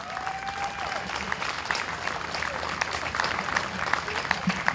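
Crowd at a county fair in central Iowa breaks into sustained applause, a dense continuous patter of many hands at moderate distance, with a brief whistle-like tone near the start.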